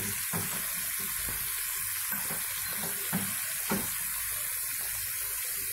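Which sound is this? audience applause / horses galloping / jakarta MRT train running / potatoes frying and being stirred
potatoes frying and being stirred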